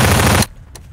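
Rapid automatic SMG fire in Garry's Mod sounds as a loud, dense burst for about half a second, then cuts off sharply, leaving one faint click.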